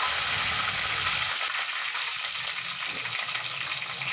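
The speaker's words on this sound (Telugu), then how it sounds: "నెక్స్ట్ కరివేపాకు పచ్చిమిర్చి వేసి వేయించుకోవాలి" Curry leaves and green chillies fry in hot oil with cumin and mustard seeds, a steady broadband sizzle holding for about four seconds and briefly dipping partway, with no voices.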